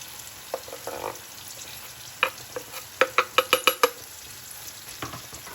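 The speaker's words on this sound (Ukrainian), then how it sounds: "Наші грибочки вже трохи підсмажилися. І кидаємо до грибочків цибульку." Mushrooms sizzle in a pan for a mushroom soup as chopped onion is added, a steady fry broken by a quick series of sharp stirring clacks of a utensil against the pan.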